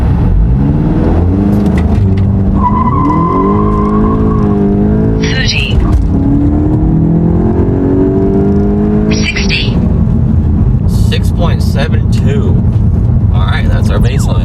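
A stock Volkswagen GTI launches with a clutch release, engine revving as it pulls away hard, its pitch climbing through rising gears, with brief sharp squeaks and a steady rumble throughout.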